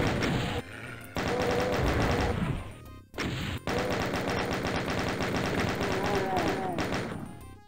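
Doom 2 chaingunners firing, sustained loud rapid rattling bursts with short gaps and impact crashes, near and continuous.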